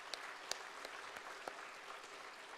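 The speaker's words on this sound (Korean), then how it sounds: "우리 청년들에게 격려의 박수 한번 보내주시죠." Faint, distant applause from a church congregation encouraging young people during a Sunday morning service, a steady patter of clapping with a few sharper claps standing out.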